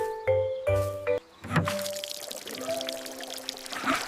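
Fresh water poured out for horses on a farm, a short gurgling stream following a few musical tones, with light splashing carrying on to the end.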